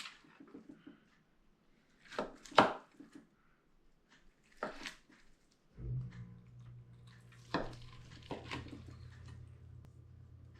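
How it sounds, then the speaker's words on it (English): Knife slicing through smoked ribs glazed with Duke's Carolina Gold sauce, a few short wet cutting and squishing sounds spread out, close and fairly quiet, with a low steady hum later on. "Go ahead and see if I can cut some of these."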